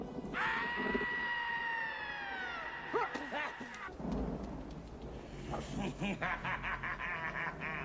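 Loud, sustained screaming from a man being tormented in a dark villain confrontation, a long descending wail in the first seconds, then rough shouting and agitated voices over a rumbling backdrop.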